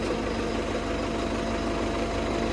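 A two-wheel cultivator engine runs at a steady idle, a continuous low rumbling drone with rhythmic mechanical pulsing, close and fairly loud, with no speech.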